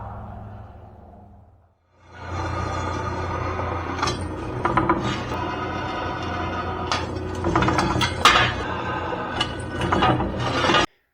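Drill press on low spindle speed, 460 RPM, boring 5/8 inch holes through steel post bracket blanks for a pole barn: a steady loud grinding, rasping drone with repeated sharp cutting bursts, close by and continuous after a short quiet start.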